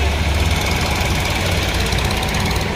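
A Sonalika tractor engine runs steadily up close, a loud, continuous low rumble with rough knocking pulses throughout, during work in heavy soil.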